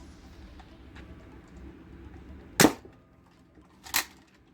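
A Nerf Rival Curveshot Flex XXI-100 blaster fires twice: two sharp, loud snaps about a second and a half apart over faint room noise.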